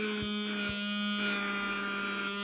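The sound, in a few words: small vacuum device running in suction mode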